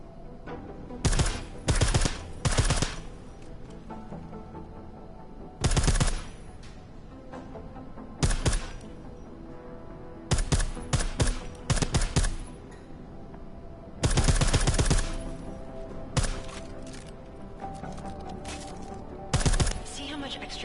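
Suppressed gunfire in Deus Ex: Mankind Divided comes in short rapid bursts of sharp cracks separated by quieter stretches, with someone speaking between the volleys.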